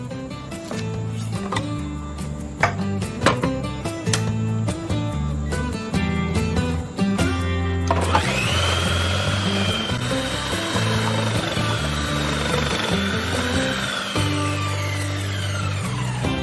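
Food processor shredding yam, its motor whirring loudly with rapid clattering chops at first, then settling into a steady high-pitched spin.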